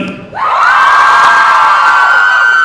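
A crowd of fans in a signing line at a Nerdfighter tour event in Seattle erupts into a sustained, high-pitched scream and cheer, loud and close, holding steady without letting up.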